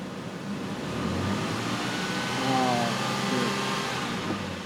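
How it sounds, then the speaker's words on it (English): A car engine revs up and settles back, a mid-pitched steady roar rising once around the middle, heard at moderate distance with some background noise. "And then you guys can hear the rev."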